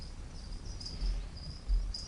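Crickets chirp in a steady, faint rhythmic trill of short repeated pulses, with no voices over them.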